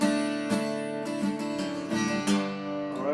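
A guitar phrase in D played with hammer-ons and pull-offs, clear plucked notes ringing closely with several distinct attacks across a few seconds.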